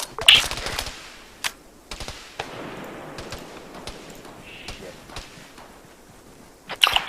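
Gunfire in the military game Arma 3: scattered sharp shots and short bursts, some close and loud, others more distant, spread across a quiet background with little talk.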